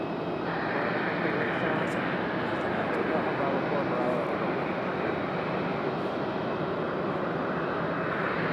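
A jet airliner at Raleigh-Durham International Airport gives off a continuous broadband engine roar, steady and moderately loud at a distance, while people talk over it.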